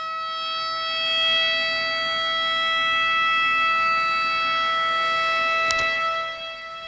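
Mega Blaster Jr. siren sounding a weather radio alert tone, a steady, loud multi-tone wail held for several seconds before fading off, with one brief click near the end and no voices.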